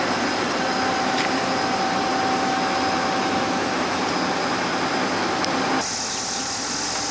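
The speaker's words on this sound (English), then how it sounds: "Time to see if we can lift it up with the 9770." Hydraulic cylinders on a 9770 machine straining to lift a load on a farm, a steady whining hum with a faint tonal drone that cuts down in level near the end.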